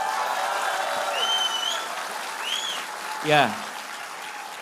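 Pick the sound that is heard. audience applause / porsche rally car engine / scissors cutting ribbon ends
audience applause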